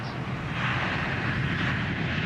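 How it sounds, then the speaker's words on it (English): An airliner's jet engines roar during the takeoff roll, a loud, continuous broadband rumble heard from inside the cockpit of an easyJet aircraft, steady and unbroken throughout. "Once the plane reaches 140 miles per hour, there's no going back."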